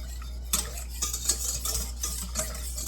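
A utensil stirs milk into a mac and cheese sauce in a pot, making repeated scraping and clinking strokes over a low, steady hum, close and moderately loud, with no voices.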